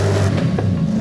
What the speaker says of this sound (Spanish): vamos a ver cómo suena esto. Vamos a escuchar la diferencia de serie